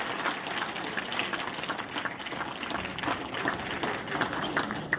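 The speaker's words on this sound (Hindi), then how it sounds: "उनके स्वागत में जबरदस्त तालियां बजाएं" Crowd applause welcoming the chief guests at a public gathering: dense, sustained clapping from many hands that holds steady throughout, with no voices standing out.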